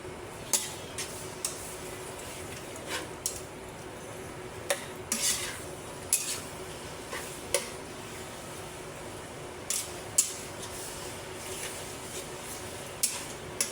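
A spoon stirring a pot of menudo with lamb as it cooks: soft, repeated metallic clinks and scrapes against the pot at an uneven pace, fairly quiet and close.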